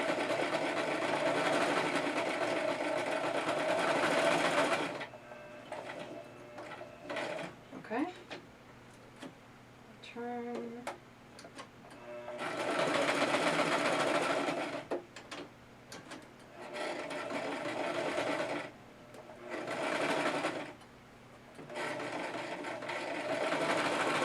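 A sewing machine stitches through layers of fabric in loud, steady whirring runs, stopping and restarting several times, with quieter handling noises and speech in the gaps.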